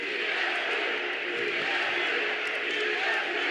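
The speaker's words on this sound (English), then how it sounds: "the fans cheer 3 letters constantly: DSP, DSP." A large hockey crowd at a Washington Capitals 2018 Stanley Cup reunion chants in unison, producing a dense, sustained roar of voices that stays loud and even throughout.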